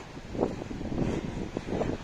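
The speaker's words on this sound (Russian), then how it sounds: "ви чуєте шум моря все мацней і мацней. І ветер мацней." Steady wind noise rushing over the microphone with soft surges of sea waves rising and falling at the beach in Palanga, Lithuania, no voices.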